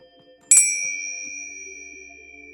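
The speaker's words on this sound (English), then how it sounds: "Feel the vibration of the chime traveling through you" A single resonant chime is struck once in a calm meditation sound bath, ringing out bright and clear, then sustaining and slowly fading over a couple of seconds, with no voices present.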